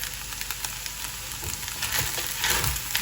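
Sago (javvarisi) cooking in a pan for kichidi gives off a soft, continuous sizzle with faint stirring scrapes, steady and close throughout.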